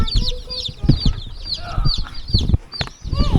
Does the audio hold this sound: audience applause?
no